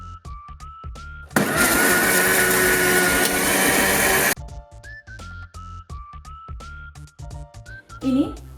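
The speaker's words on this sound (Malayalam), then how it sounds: "അതിനായിട്ട് തേങ്ങയും മുളക് പൊടി, മഞ്ഞൾപ്പൊടി, ഉള്ളി ഇതെല്ലാം കൂടെ ഒരു മീഡിയം പരുവത്തിൽ അരച്ചെടുക്കണം" A kitchen mixer grinder whirs loudly for about three seconds, grinding coconut, chili powder, turmeric and onion into a medium paste for Kerala-style sardine curry, with someone speaking before and after it.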